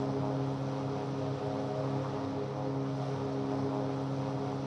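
Airplane flying in a flight simulator on a Route 66 leg from Tulsa to Oklahoma City, a steady droning engine hum with strong low tones, constant and unchanging in level.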